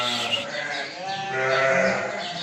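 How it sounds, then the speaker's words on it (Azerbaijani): Young lambs of the Tatalı breed bleating in a farm pen, several overlapping wavering cries close by with no talking. "Bax quzular da bunlar."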